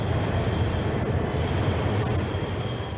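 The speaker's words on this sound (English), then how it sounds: "Back on the subway, the woman we saw turned down the offer of emergency shelter and took the last train" A New York subway train runs along the track with a loud, continuous rumble, wheel noise and a faint high squeal, heard up close throughout with no talking.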